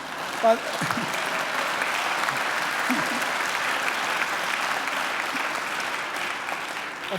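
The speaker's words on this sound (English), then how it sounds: "Renee deserves another great round of applause" Sustained applause from a graduation audience at a Macquarie University ceremony, a dense, steady wash of many hands clapping at even loudness for the whole stretch, with a few faint voices murmuring beneath it.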